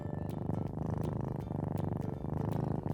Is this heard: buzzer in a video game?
no